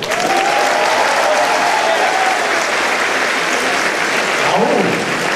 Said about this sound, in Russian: А вы аплодируете.